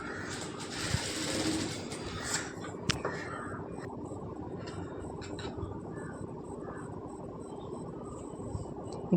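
Sewing machine stitching a seam along a folded edge of fabric material, a steady continuous mechanical whirr with faint background chirps, no talking.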